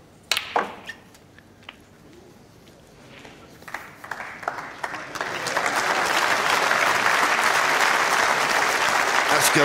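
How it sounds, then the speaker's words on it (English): Snooker crowd in an arena applauding a shot, starting with a few scattered claps and swelling into steady, full applause from the audience. "That's got a bit of reaction from the crowd."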